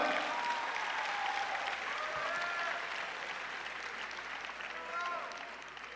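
Commencement crowd clapping at the Ann Arbor Pathways to Success High School graduation, a sustained wash of many hands that slowly fades, with voices talking over it.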